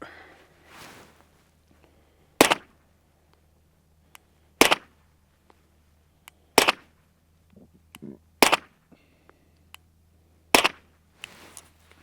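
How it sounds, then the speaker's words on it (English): Five suppressed pistol shots from a SiCo Omega 9K firing 115 grain Remington rounds into dirt outdoors, sharp cracks spaced about two seconds apart over a steady low background hum. "we're gonna shoot the Omega 9K here, 115 grain Remington. We're gonna do 5 shots into the dirt"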